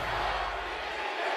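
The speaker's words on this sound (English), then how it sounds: "You can hear the roar of the crowd once more." Crowd roaring in an esports arena during a League of Legends Worlds 2022 quarterfinal match between DRX and EDG: a broad, distant, sustained wash of cheering that fades slightly toward the end.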